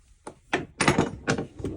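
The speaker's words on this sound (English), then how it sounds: "sliding door" An American barn-style sliding door rolls along its track indoors, giving a series of four or five short thumps and rumbling bursts over about two seconds, close and moderately loud, with no talking.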